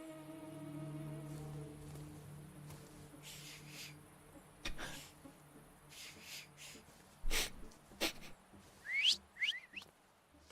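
An attempted whistle by a character in the isometric video game The Thaumaturge, a few short breathy rising squeaks and puffs near the end over quiet game music and ambience.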